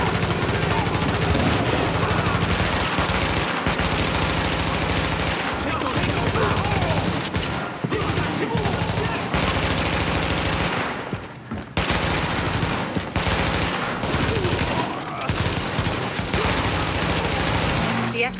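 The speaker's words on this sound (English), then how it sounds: "The escort party's taking heavy fire from the roof." Gunfire in the video game The Division, with dense sustained machine-gun fire and overlapping bursts pounding loudly and almost continuously, with brief lulls, over a heavy combat background.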